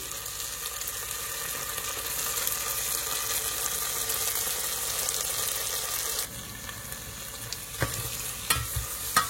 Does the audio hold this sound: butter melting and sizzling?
yes